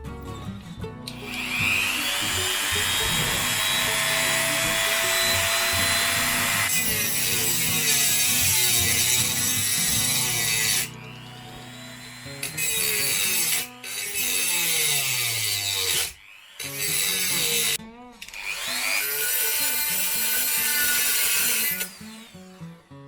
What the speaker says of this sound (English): we're going to be cutting these posts out here and drilling through the side of the body